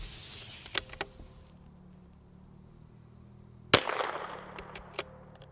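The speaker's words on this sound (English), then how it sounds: "We're going to shoot it out over the chronograph" A custom .22LR rifle loaded with Eley match ammunition fires over a chronograph outdoors. A sharp crack lands near the middle, surrounded by several fainter snaps and clicks in otherwise quiet surroundings, with no speech.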